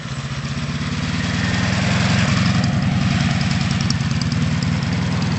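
A motorcycle engine runs close by at a steady, buzzing rumble, swelling slightly as throttle is applied, with no other sounds over it.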